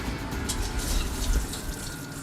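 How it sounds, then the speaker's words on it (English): Soaking water from overnight-soaked non-glutinous rice drains out in a steady, close, gushing pour, splashing continuously like a running sink with no voices. "Drain off the liquid."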